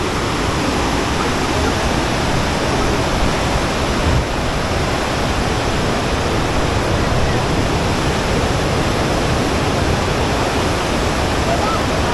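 The Bhagirathi river rushes near Uttarkashi in the Himalayas, a loud, dense, continuous roar of fast-flowing water filling the whole scene without letup.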